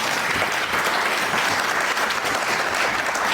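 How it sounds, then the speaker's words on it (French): An audience at a public political gathering applauds the organizing committee, a dense, even wash of clapping filling the whole moment without talk. "demander qu'on applaudisse le comité d'organisation"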